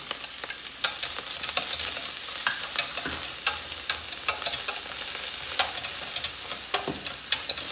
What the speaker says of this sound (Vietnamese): tỏi băm với lại sả băm mình tẩy nha các bạn